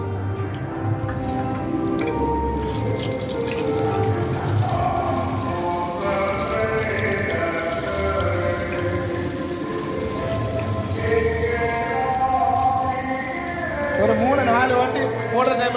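Urad dal vada batter sizzling in hot oil in a home kitchen, a continuous crackling fizz like rain on a surface, with faint voice traces and clatter now and then.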